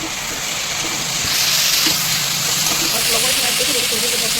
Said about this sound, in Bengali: এরপর এখানে ম্যারিনেট করে চিকেনটা দিয়েছি চিকেন দেওয়ার পর আরও কিছু কষে নিচ্ছি